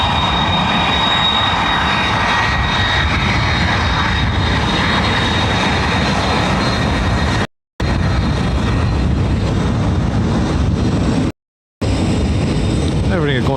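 A Lufthansa airliner arrives at Dublin Airport in gusty high wind, its engine roar steady and loud alongside heavy wind rumble, with air traffic control radio speech heard and two short dropouts of total silence near the end.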